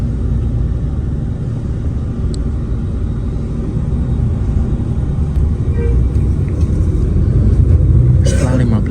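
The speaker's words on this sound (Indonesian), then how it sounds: "Bis langsung parkir di shelter keberangkatan." A long-distance coach parks at the departure shelter of Anjuk Ladang bus terminal in Nganjuk, its steady low engine rumble continuing throughout, with faint terminal noises and a brief hiss near the end.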